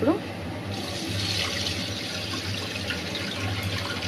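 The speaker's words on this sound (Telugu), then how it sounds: "వాటర్ వేసుకుందామండి" Water pours into a cooking pot for country-chicken biryani, a steady close splashing rush that fills the whole stretch at an even level.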